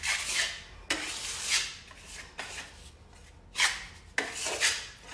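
A trowel spreads German schmear mortar over faux wood paneling in repeated rough, scraping strokes, close and fairly loud, with short pauses between the strokes.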